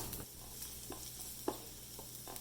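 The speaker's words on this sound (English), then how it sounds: "It is time to add the chopped ginger and garlic, about 1 tablespoon each. And then saute it a bit more." Chopped ginger and garlic are sautéed for a cauliflower makhani masala, giving a faint, soft sizzle with a few light spatula taps and stirs, quiet and close.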